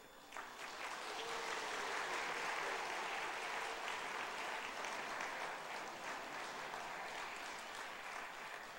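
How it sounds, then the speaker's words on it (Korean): A church congregation at a Christmas service claps after birthday candles are blown out, a broad swell of applause from many hands that rises quickly, holds steady for several seconds and slowly thins, heard from a little distance. "불이 꺼지면 여러분 큰 박수 부탁합니다."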